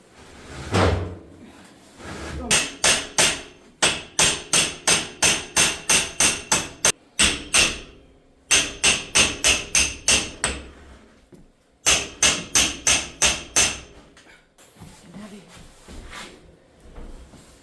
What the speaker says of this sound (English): You might just knock them around with a hammer, would be easier.